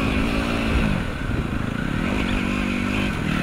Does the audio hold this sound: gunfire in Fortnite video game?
no